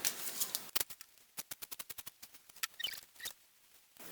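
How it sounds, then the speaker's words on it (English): Scissors snipping through fabric while cutting out a dress pattern piece, a quiet close run of quick, evenly spaced crisp snips with faint rustling between them. "so I'm gonna cut all the way here and cut this out"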